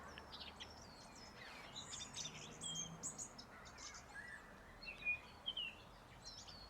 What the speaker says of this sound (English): I think it's a thrush.